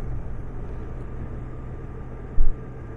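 A Honda Goldwing GL1500 motorcycle, back on the road after crash repair, is ridden with a steady low engine rumble and road noise and a brief louder thump near the end.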